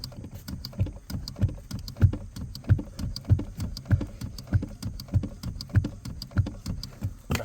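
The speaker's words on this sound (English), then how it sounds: "you're going to pump the clutch" Clutch pedal on a 2011–2023 Ford Mustang being pumped repeatedly, a steady rhythmic series of soft thumps and clicks roughly twice per second, close and alone with no talking.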